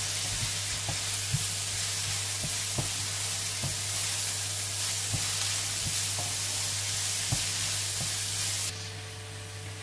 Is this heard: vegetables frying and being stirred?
yes